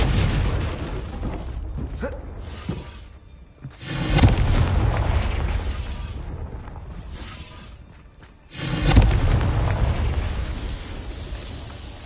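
Two big fiery Confringo spell blasts in the Hogwarts Legacy video game, each a loud booming burst that swells and then trails off into rumbling debris, spaced several seconds apart.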